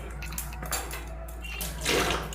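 Water splashes and trickles into a metal pressure cooker pot in a home kitchen while cooking mutton, a short close pour with light clinks of the vessel, no voices over it.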